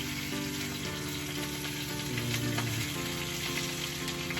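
Spinach frying in olive oil in a pan during camper cooking in an RV, a steady, continuous sizzle at a constant level with faint clatter underneath.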